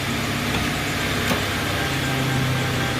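Warmed-up Ford Crown Victoria engine idling close by, a steady, even rumble with no change in pitch and no voices.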